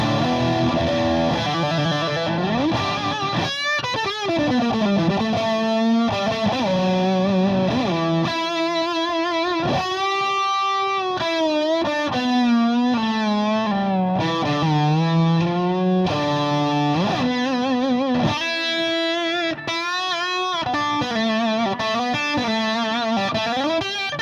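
Overdriven electric guitar played through an MXR Custom Badass Modified O.D. pedal with a noise gate engaged, loud and sustained with strummed chords and bending single-note lines, no hiss between phrases.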